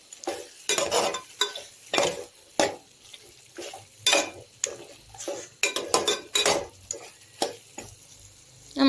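Chicken roast being stirred in a pan, with intermittent scraping and clinking of the spoon against the metal over a soft sizzle, in irregular bursts with no talking.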